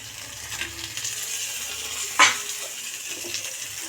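A hilsa fish head goes into a small amount of hot oil in a black kadai, giving a soft, continuous sizzle broken by one sharp crackling burst, with a few light clinks of utensils.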